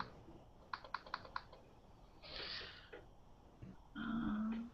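Keys on a computer keyboard tapped in a quick cluster of four or five clicks, then a short pause and more scattered soft taps, fairly close in a quiet room with other faint room noise around them.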